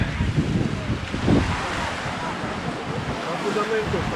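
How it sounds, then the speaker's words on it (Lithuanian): Waves and wind roll in at the shore of the North Sea at Denmark's northernmost point, a broad, steady wash with gusty wind noise buffeting the microphone and faint background activity throughout. "Atėjom va Šiaurės jūra"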